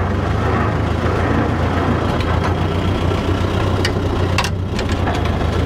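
The diesel engine of an Allis-Chalmers Model D motor grader runs in first gear at high range, a loud, steady, low rumble that holds close throughout with a few faint clanks.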